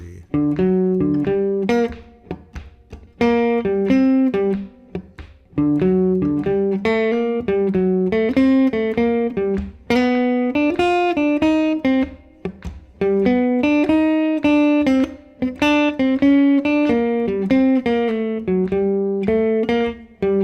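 Jazz guitar solo, clean single-note lines spelling out the chord changes of a blues. Loud, close, melodic phrases of a few seconds each are separated by brief pauses and played alone without accompaniment.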